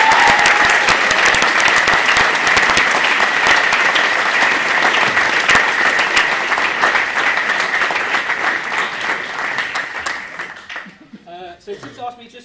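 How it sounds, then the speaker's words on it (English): Loud, dense applause from an audience at a senior house drama performance at Bromsgrove School, sustained for about ten seconds before thinning into a few scattered claps and fading out. "my second round of applause for the night is to just all of the performers and the directors involved"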